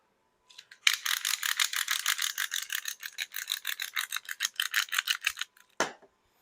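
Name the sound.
rubbing salt seasoning onto pork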